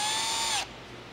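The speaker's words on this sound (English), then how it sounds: "I'll drill the holes for the 1/8 inch rivets." A power drill whines steadily while boring 1/8 inch rivet holes in the snorkel blanking plate of a next-generation Ford Raptor. The drill is loud and close, then spins down and cuts off abruptly partway through.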